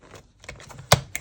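Paper strips are cut for a crafting project, giving a few crisp, close snips and rustles with one sharp louder cut near the end, heard alone over a brief span.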